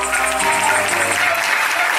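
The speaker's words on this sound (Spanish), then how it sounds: "fuerte el aplauso" Audience applause at a farewell pageant for Venezuelan teen and pre-teen queens, with dense, steady clapping that fills the whole moment loudly and evenly.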